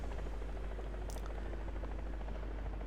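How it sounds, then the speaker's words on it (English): A helicopter in the War Thunder video game, its rotor and engine making a steady, droning buzz with a low rumble underneath, constant and moderately loud throughout, with no speech. "There is a helicopter."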